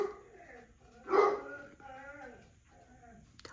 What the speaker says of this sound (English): That's our Basset Hound.